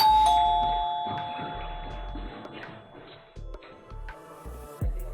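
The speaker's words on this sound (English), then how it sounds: "we hear the doorbell ring" A doorbell chimes clearly at the start, followed by quieter thumps and faint room noise in a calm indoor space.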